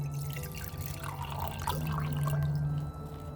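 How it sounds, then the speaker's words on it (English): Water is poured into a cup holding okra seeds, a steady close trickle and splash that runs throughout with a low hum beneath and no talk. "And then I put water in there and I soak them in water."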